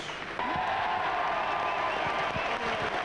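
Stadium crowd at a Bradford versus New Zealand rugby league match in 1993, sustained applause and cheering that swells suddenly and holds steady, broad and distant-sounding.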